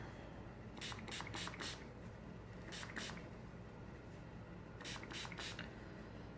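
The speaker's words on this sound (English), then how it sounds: "I'm just going to spray that section" A spray bottle gives several quick hissing spritzes in clusters onto curly hair, fairly faint, over a constant background hum.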